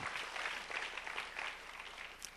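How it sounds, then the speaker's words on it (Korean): A church congregation at a youth worship service claps together, a steady, dense wash of applause that holds at an even, fairly soft level without a break. "하나님께 영광의 박수 올려드리겠습니다."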